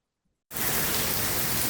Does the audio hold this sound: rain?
yes